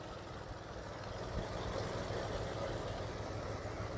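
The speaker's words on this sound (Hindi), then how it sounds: "तो दोस्तों यहाँ पे आप इंजन नॉइज सुन सकते हैं।" Mahindra XUV 3XO AX5 1.2 litre three-cylinder turbo petrol engine idling, heard from nearby as a low, even hum that barely changes, with the cooling fan running and no one talking.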